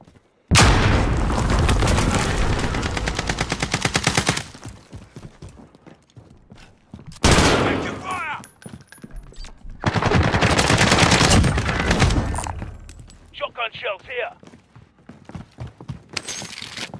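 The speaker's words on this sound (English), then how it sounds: "I'm taking fire." Call of Duty Warzone gameplay with bursts of rapid automatic gunfire and heavy booms, loud and close, coming in several long volleys separated by quieter gaps, with a short radio-like blip near the end.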